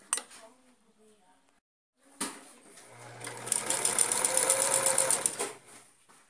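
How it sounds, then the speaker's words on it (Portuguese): A sewing machine runs a simple straight seam on a homemade 3D protective face mask, a steady fast whirring burst of several seconds after a brief voice and a clack, then stopping. "agora vamos costurar uma costura reta, simples aqui"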